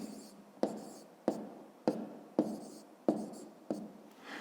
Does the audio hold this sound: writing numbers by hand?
yes